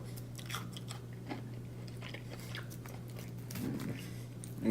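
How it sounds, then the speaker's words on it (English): Crunchy air fryer chicken with honey being bitten and chewed close up, a few crisp crunches spread over a steady low hum, with louder chewing near the end. "I'm sure you can hear that crunch."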